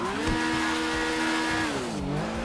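A BMW R1250 motorcycle in GTA V drones with a steady engine note that holds, then dips and climbs as the throttle changes, loud and close with no voices.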